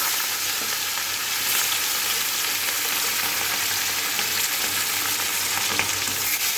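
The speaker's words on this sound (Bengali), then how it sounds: "হালকা ভেজে উঠিয়ে নেব মাছগুলোকে।" Fish frying lightly in oil in a pan, a dense continuous hiss and crackle of sizzling heard up close and fairly loud, with no voices.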